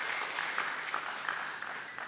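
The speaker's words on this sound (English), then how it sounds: "a big round of applause for the Maharashtra government also" Audience applause at a stock exchange SME platform listing ceremony for Getalong Enterprise Ltd, steady moderate clapping from a crowd filling the room for a couple of seconds, with no voices over it.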